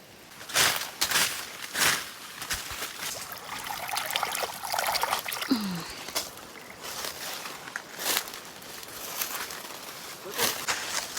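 Water trickles steadily through a village farm plantation, a continuous wet babble with scattered sharper splashes and footstep-like thumps, while voices speak intermittently over it.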